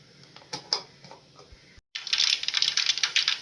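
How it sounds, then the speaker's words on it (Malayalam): Mustard seeds crackling in hot coconut oil, a dense run of sharp close pops and ticks that briefly drops out, then returns louder and busier. "എണ്ണ ചൂടായി അതിലേക്ക് ശകലം കടുക് പൊട്ടിക്കാം."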